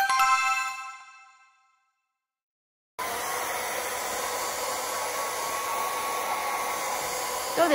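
A hair dryer starts blowing after a brief chime and a stretch of silence, then runs as a steady, loud rushing whoosh close by until the end.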